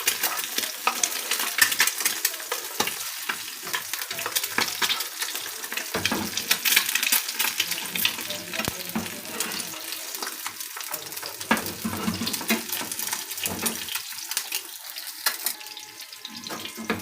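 A half-fried egg sits in a pan of hot oil that is spooned over the yolk. It gives a loud, crackling, continuous sizzle with a busy spattering texture, close up.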